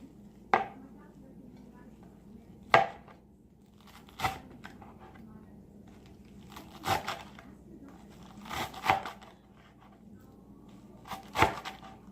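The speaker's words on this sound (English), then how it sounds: "we're going to chop up this bush of cilantro" A knife chops through a bunch of cilantro on a cutting board in a home kitchen, making about eight sharp, close thunks spaced irregularly over quiet background.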